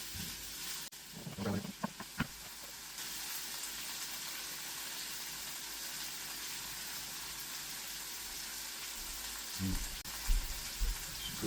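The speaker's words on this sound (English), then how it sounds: "I know it's supposed to caramelize the onions." Onions frying in a pan toward caramelizing for atole de grano, a soft steady sizzle heard close, with brief clatters of stirring near the start and end.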